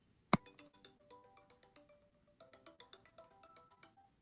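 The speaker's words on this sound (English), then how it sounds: "Never even heard that ringtone." An unfamiliar phone ringtone plays as a sequence of bright, plinking electronic tones in a quick melodic pattern, fairly quiet and alone after one sharp click at the start.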